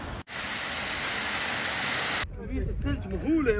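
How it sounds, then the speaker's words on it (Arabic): A waterfall behind a riad in Tetouan, northern Morocco, gives a loud, steady, close rushing roar for about two seconds, then cuts off abruptly, leaving faint background sound and a voice. "شلال خلف الرياض في تطوان."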